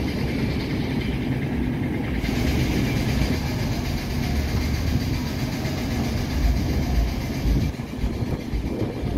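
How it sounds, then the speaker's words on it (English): A Manhattan-bound NYC subway 7 local train on the IRT Flushing Line runs past loud and steady, its wheels rumbling and clattering on the rails throughout. "is the Manhattan Bound 7th local train"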